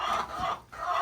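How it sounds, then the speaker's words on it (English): Chickens and guinea fowl on a homestead farm cluck and call nearby in a short burst, steady and fairly loud with a brief dip in the middle. "here's the guineas. They're coming around too."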